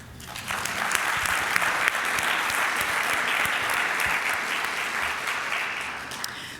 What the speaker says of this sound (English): Let's give our panel another round of applause, and Doug Bolton for being a fabulous modera